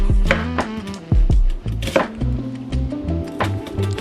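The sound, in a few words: chopping food with a knife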